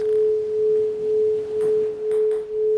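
A steady, pure sine tone in the left ear only hums continuously at one pitch, with faint soft rustles and clicks in the background.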